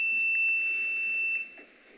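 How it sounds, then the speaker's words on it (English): An electronic device at an election commission meeting gives a steady, piercing high-pitched beep that holds for over a second and then cuts out, with no talking over it. "It always beeps when I'm talking."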